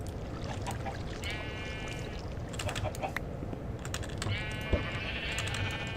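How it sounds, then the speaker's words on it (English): Two short runs of sheep bleating in Minecraft, harmonic and stacked, rising over steady game ambience with a scatter of clicks and one sharp thump near the end. "Look at all my sheep."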